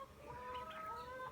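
Chickens on a backyard butchering setup cluck softly at close range, a short run of murmuring hen calls over a faint outdoor background.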